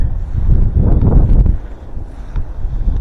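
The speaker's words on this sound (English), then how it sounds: "There is a bunch of wind today." Strong wind buffets the microphone at a pond bank, a loud low rumble that surges and eases in gusts across the whole stretch.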